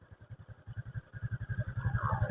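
A Honda Wave 110i motorcycle towing a trailer climbs up a roadside, its small engine thudding in a quick regular beat that grows louder and busier as it pulls, heard up close with no talking.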